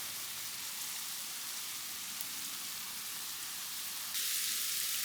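Steady, fine sizzling of spices, shallots, garlic and ginger frying in hot oil continues throughout, soft and even, growing slightly louder near the end.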